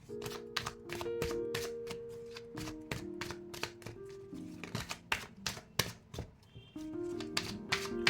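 Tarot cards being drawn and shuffled, a quick run of crisp snapping card clicks and slaps in irregular bursts, close and clear, with soft sustained music tones underneath and no speech.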